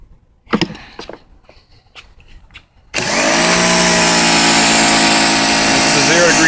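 An AR Annovi Reverberi AR390SS electric pressure washer switches on after a few faint knocks and handling noises, then runs with a loud, steady motor whine and hum to the end.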